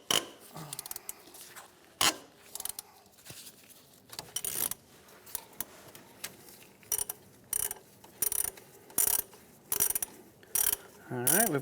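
Ratchet loosening 12mm bolts on the power steering pump of a 2003-2011 Honda Element, heard as rapid close clicking bursts in short repeated strokes, with no talking.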